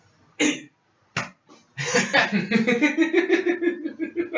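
Two short coughs with a pause between, then a steady stretch of louder, rasping vocal noise, close to the listener.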